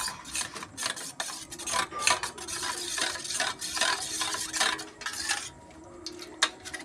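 A spoon scrapes and stirs biscuit crumbs, arrowroot and water in a bowl, with repeated rasping strokes of utensil against the bowl, steady and close, then a brief pause and a final clink.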